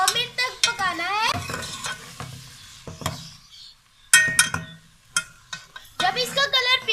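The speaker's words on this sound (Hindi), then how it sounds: "मैंने देखिए में 1 कप घी गरम कर लिया है। अब हम इसमें प्याज डाल देंगे।" Onions frying in a cup of hot ghee in a pot, heard as close stirring scrapes and sizzling with spoon clinks, partly under a person talking.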